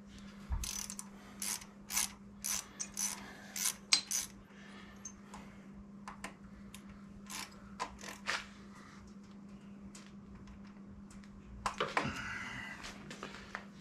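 Small metallic clicks and ratcheting taps come from a T20 Torx bit tightening a small screw on a fuel-injected Harley-Davidson Sportster. A low hum runs underneath, and a short rattling burst comes near the end.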